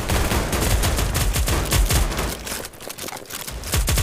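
Gunfire in the battledudes.io online shooter, including M1 Garand rifles: dense rapid volleys of loud shots crackling almost continuously, easing briefly before resuming, with no talk.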